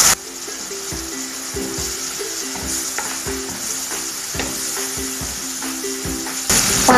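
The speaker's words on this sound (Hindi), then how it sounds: "पाँच मिनट तक हम इसकी भुनाई कर लेंगे।" Marinated liver (kaleji) frying on a hot tawa, a steady loud sizzle with rhythmic scraping and stirring of a spoon against the metal, repeated every half second or so, alone without talk.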